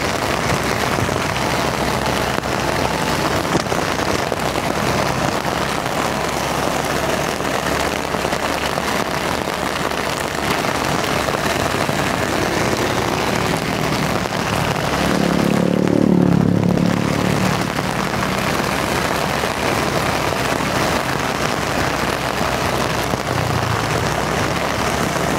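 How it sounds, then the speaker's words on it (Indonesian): Heavy downpour in Bekasi, West Java, near the Kali Gabus river, a steady dense hiss of rain continuing throughout with a brief louder low rumble midway. "Deras sekali hujannya."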